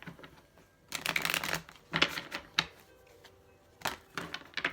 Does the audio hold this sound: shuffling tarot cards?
yes